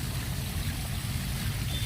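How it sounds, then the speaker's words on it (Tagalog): Gushing water flowing at a small stream spot, a steady, low rushing murmur with a continuous burbling texture, fairly faint and unbroken. "Ito yung lagaslas. Oh, ay lagaslas ng tubig."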